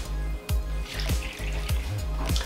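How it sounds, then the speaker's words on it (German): Water poured into a bowl of dry vegan chocolate cake batter ingredients, with a few short splashy bursts and soft trickling, close by and fairly quiet. "Zu den trockenen Zutaten gebe ich nun Wasser"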